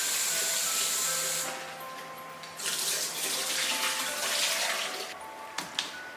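Tap water runs steadily into a sink as pork ribs are rinsed by hand, a close, loud hissing stream that briefly eases then resumes with a few splashes near the end.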